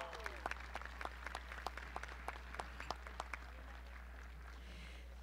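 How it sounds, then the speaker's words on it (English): Applause from an audience at a college commencement ceremony, scattered distinct claps over a steady low hum, fairly faint and thinning out toward the end. "A round of applause for the team."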